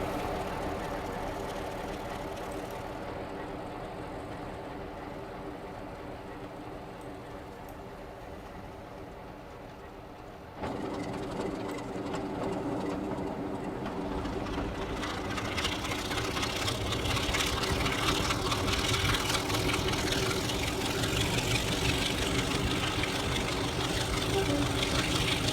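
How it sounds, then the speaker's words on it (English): A class 47 diesel locomotive in the Trainz Plus railway game, idling with a steady low throbbing drone that grows louder partway through and then holds. "There goes our 47 idling on the back there,"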